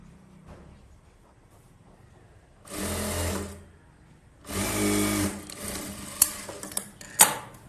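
A sewing machine stitching a blouse seam from a marked point runs in two separate bursts of rapid, close mechanical whirring, each about a second long, with quiet pauses between and a few faint clicks afterward.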